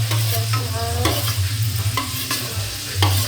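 Crab meat being stirred and scraped in a sizzling frying pan, with steady frying hiss and repeated utensil scrapes against the pan.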